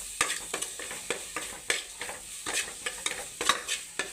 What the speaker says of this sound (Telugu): చిటికెడు పసుపు, బాగా వేసి బాగా మిక్స్ చేసుకోవాలండి